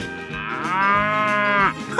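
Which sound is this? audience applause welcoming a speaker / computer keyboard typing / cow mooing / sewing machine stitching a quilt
cow mooing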